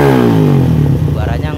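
A Suzuki Satria FU motorcycle engine with a long exhaust and camshaft decompressor removed revs up and then drops back, a deep throaty exhaust note that is loud and close, with a voice partly over it.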